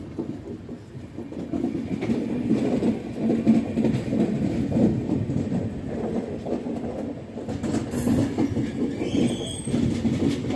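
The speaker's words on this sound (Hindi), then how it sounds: "यहाँ पे आप ट्रैक साउंड सुनिए" The Kamayani Express rolls along the tracks after Bhopal with a constant close rumble of wheels, rhythmic clatter over rail joints and a brief squeal of wheels near the end.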